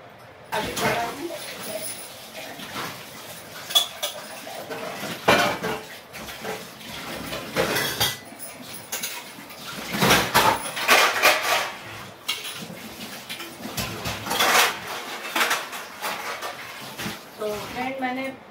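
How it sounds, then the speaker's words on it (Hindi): Dishes, heavy pots and utensils are washed by hand in a home kitchen: metal clanks and clatters repeatedly against running water, with someone talking over the washing. "चल रहे हैं बर्तन धोने"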